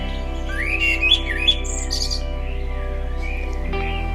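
Dawn birdsong with several birds chirping and whistling in overlapping phrases over a steady low hum, moderately loud and continuous.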